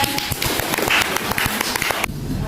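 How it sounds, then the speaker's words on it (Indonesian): Classroom applause for a student group after their presentation in a mathematics lesson, a dense run of clapping from a small crowd that cuts off abruptly near the end, leaving quieter room sound. "beri tepuk tangan untuk kelompok 3"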